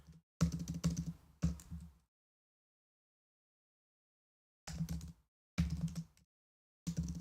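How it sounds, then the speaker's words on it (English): Quiet, close typing on a computer keyboard during live coding, with clustered bursts of rapid key clicks split by several seconds of silence. "I'm so bad at typing."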